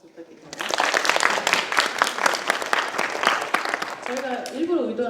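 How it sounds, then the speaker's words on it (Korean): An audience at an astrophotography contest award ceremony claps after a Q&A session, starting softly and swelling into dense applause, with a voice speaking over the tail end. "없으시면 우리 다시 한번 박수 부탁드립니다."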